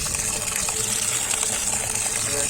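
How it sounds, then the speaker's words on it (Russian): Water gushes out steadily at a country house, a bright, continuous rushing splash close by with no break and no talk. "Вот какая вода льется."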